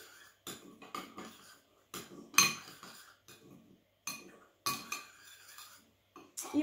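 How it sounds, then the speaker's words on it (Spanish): A spoon stirs psyllium and water in a small container, making repeated bursts of clinking and scraping against the sides, close and fairly loud, with short pauses between strokes. "Y voy a remover un poquito."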